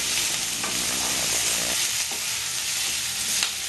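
Ginger garlic paste and green chilli fry in hot oil for a Bengali egg curry, giving a steady, close sizzle with soft stirring scrapes throughout.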